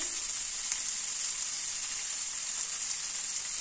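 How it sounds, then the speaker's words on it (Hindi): Onion being lightly fried with spices in a pan for a badhal flower sabzi, a dense, steady hiss of sizzling oil that stays even throughout, close and continuous with no voices. "तो प्याज को हल्का सा भूना है"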